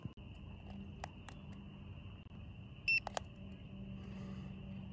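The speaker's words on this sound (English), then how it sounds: "press and hold the two arrow buttons at the top until it beeps and it goes into learn mode" A single short electronic beep from a TireMinder i10 tire pressure monitor entering learn mode, with a few faint clicks around it over a steady low hum.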